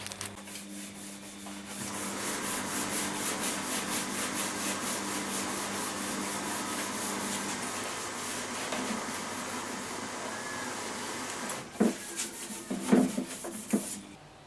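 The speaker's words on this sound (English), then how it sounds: "That's the side tables rubbed down with a scouring pad and ready to receive a thin coat of primer." Scouring pad rubbing down the surface of a bedside side table before priming, a steady abrasive scrubbing that runs continuously for most of the clip, fairly close, ending with a few sharper knocks and scrapes.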